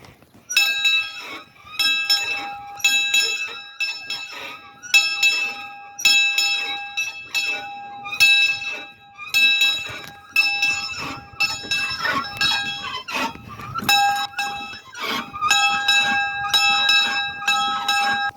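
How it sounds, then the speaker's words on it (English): A bright metallic locomotive bell rings over and over in a steady, even rhythm, each clang ringing out clearly with a sustained ring between strikes, at a transportation museum. "my grandma's about to ring the bell"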